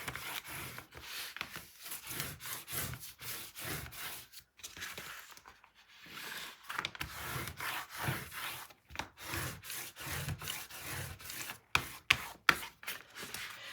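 Paper being burnished with an acrylic spacer while building a 9 x 9 mini album, a steady run of close, dry rubbing strokes in quick back-and-forth rhythm, with a brief pause midway and a few sharper taps near the end.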